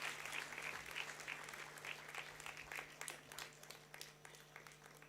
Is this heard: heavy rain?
no